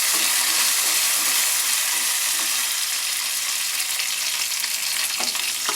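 Curry leaves sizzle in hot oil while a wheat masala dosa filling is being prepared; a loud, steady crackling hiss continues throughout, close up and without any voices.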